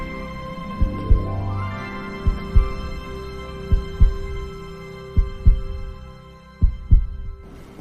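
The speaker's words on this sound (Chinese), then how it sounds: "别让他听见你的心跳声" A heartbeat sound effect in a cartoon, thumping in close, evenly spaced double beats over a low sustained hum, loud and alone without voices.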